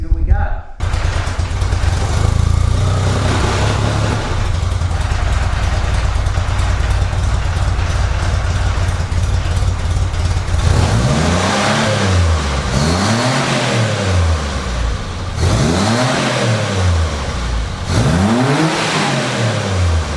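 A dune buggy fitted with a Ninja ZX14 exhaust starts up and idles loudly, then revs repeatedly in rising and falling sweeps, close and loud from start to finish.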